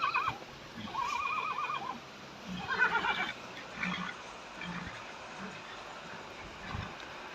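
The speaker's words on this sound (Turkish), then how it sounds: "Kişnedi." A thirsty horse in a summer highland setting whinnies twice: a loud, wavering neigh near the one-second mark and a stronger one around three seconds, followed by quieter snorts and shuffling against an outdoor background.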